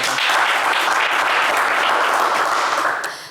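Studio audience on a French television game show applauding a contestant: loud, continuous, dense clapping that stays even throughout and tapers off at the very end.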